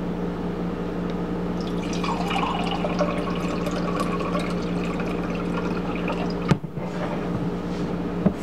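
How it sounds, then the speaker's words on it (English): Filtered water pours steadily into a kombucha jar, a continuous close trickle and fill that stops abruptly near the end, with no talk. "I add more filtered water to bring it up to the neck of the jar."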